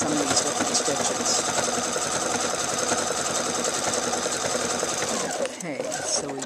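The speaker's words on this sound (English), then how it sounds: "Now before I start to sew again" A Pfaff Expression 4.0 sewing machine stitches a hand quilt stitch with a J Creative bobbin case, running in a continuous buzzing whir that briefly dips near the end before resuming.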